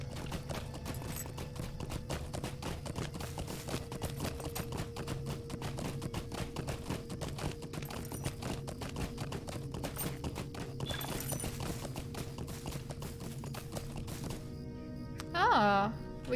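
Horse hooves clip-clopping steadily in the video game Lord of the Rings Online (LOTRO), a fast continuous rhythm of hoof taps under game ambience, ending with a brief voice.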